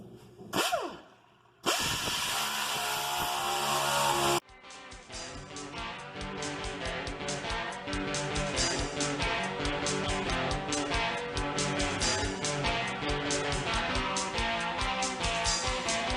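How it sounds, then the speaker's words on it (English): Air grinder with a worn disc grinding the bodywork of a square body Chevy truck, a loud steady whining hiss that starts after a brief burst of air and runs continuously to the end. "I thought my air grinder had a better disc on it than this"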